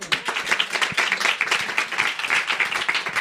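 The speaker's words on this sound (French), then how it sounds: "vous pouvez continuer à applaudir" An audience applauds at a live interview event, many hands clapping in a dense, steady patter that runs throughout, fairly close and moderately loud.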